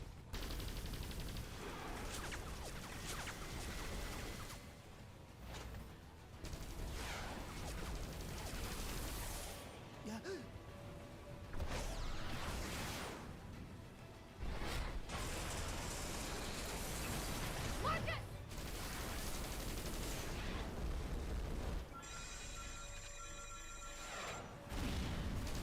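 Dense bursts of gunfire, booming missile blasts and mechanical clatter fill a robot battle in the video game Xenoblade Chronicles X, loud and continuous across the stretch.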